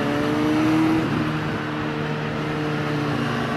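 A 2021 Suzuki Katana motorcycle engine droning steadily while engine braking downhill on a night ride, with a brief rising whine early on before settling into an even, close hum under wind noise.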